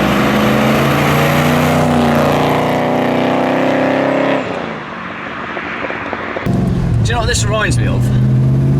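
A Rover V8-engined car on a road trip, its engine a loud, steady close-up drone with a brief drop in level midway before picking back up, while people talk over it.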